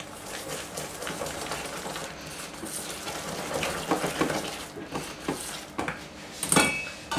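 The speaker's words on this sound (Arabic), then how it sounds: "100 غرام ديال الطحين غادي نخلط مزيان" Flour being whisked into crepe batter in a bowl, a busy run of close clattering and scraping against the bowl, with a few louder knocks near the end.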